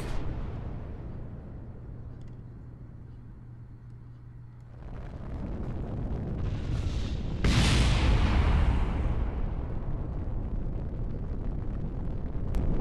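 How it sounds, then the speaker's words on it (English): A howitzer tank cannon fires in a demolition challenge, a single loud blast at about seven seconds followed by a long roaring rumble and debris noise over steady wind and engine hum. "My howitzer cannon there seemed to do a bit of damage."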